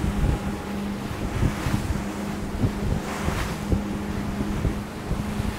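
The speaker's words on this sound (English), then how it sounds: "There's plenty of wind." Strong wind buffets the microphone on the flybridge of a Sirena 48 trawler running at sea, a constant roaring rush over a low engine hum, with gusts swelling and fading.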